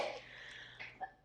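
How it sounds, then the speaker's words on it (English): A person coughing after choking on their own spit: a short, close, harsh cough burst followed by a brief throaty catch, alone without speech. "Those are the worst coughs ever. I choked on my spit."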